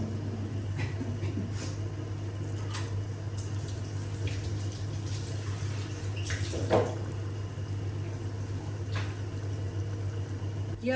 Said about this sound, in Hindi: फिर इसमें करेंगे पानी ऐड